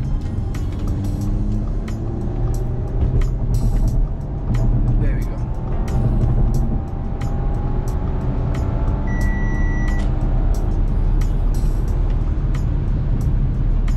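An Audi A5 S line Quattro accelerates, its engine a steady low drone with rising tones heard from inside the cabin while someone talks over it throughout.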